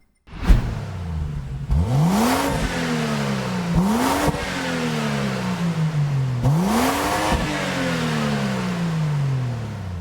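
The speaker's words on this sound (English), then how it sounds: "let's have a listen to the car" A BMW Z4 engine revving in Gran Turismo, three rising revs that each climb sharply and then fall away, with a steady idle between them, loud and close with no talk.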